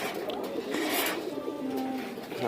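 A kept dove at a breeding coop gives soft, rolling coos close by, steady and low, with no speech over them.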